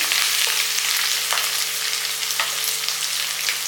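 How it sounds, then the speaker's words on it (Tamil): Shallots with green chillies sauté in hot oil in a pan for a Tamil spinach gravy, giving a steady close sizzle throughout with a few soft stirring scrapes. "சின்ன வெங்காயம் கொஞ்சம் கொஞ்சம் வதங்கட்டும்"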